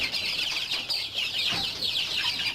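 Chinese silkie chickens in a European-style coop cluck and chatter continuously, a dense flock sound close by, with a brief low thump partway through.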